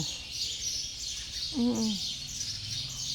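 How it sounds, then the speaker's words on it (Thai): Dense, high chirping of birds at a Thai temple grounds fills the background throughout, with a brief low cooing call in the middle. "นก เสียงนก"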